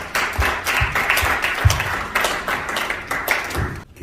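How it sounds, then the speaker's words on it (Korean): Congregation applause at a church prayer meeting, a loud, continuous patter of many hands with occasional heavier thumps, filling the room without pause. "박수!"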